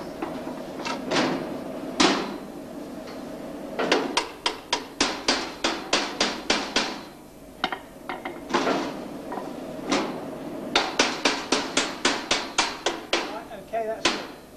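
Repeated hammer blows ring out in quick bursts, some in rapid runs, others spaced apart, close and sharp.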